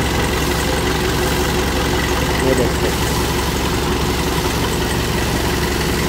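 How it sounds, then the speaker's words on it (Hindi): A double-clutch tractor engine idles at low revs while the clutch is pressed and released, a steady, loud mechanical rumble running throughout, with someone speaking briefly over it. "ट्रैक्टर को स्लो रेस पे स्टार्ट रखना है, और पूरा क्लच दबाना है और छोड़ना है"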